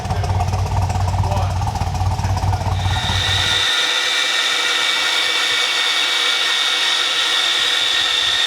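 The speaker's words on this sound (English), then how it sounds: "Drilling out the rivets" A drill works through rivets on a Chevrolet TrailBlazer SS during an oil pan pickup job, giving a steady, close high-pitched whine that runs throughout, with a low rumble underneath at first.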